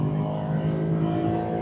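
A Mercedes C63 Black Series replica accelerating hard uphill, its engine giving a loud, close, continuous rich roar with a steady low drone and no talk over it.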